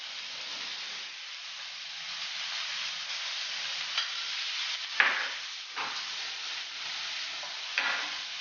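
A steak (beef tenderloin) sizzles steadily in a pan after being flipped, a continuous close hiss with a few soft clatters and bumps from handling the pan, and no speech.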